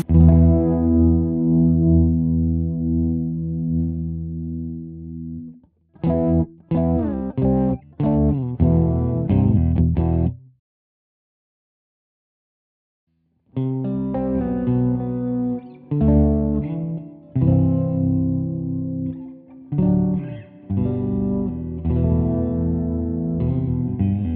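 Clean electric guitar notes and chords through a Tech 21 Marty Friedman Signature SansAmp preamp pedal in clean mode, with a gentle reverb tail from the pedal, played in bursts with a short silent gap in the middle.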